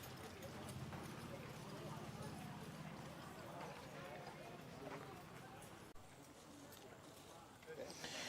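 Horse being shown at a Lexington, Kentucky horse sale, its hooves clip-clopping in a steady rhythm close by, with people talking over and around the hoofbeats.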